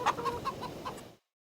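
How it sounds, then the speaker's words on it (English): Chickens on a farm in the video game Farming Simulator 22 give a quick run of clucks, close and moderately loud, that end abruptly in silence. "back here at the farm, let's check the chickens. Chickens are good."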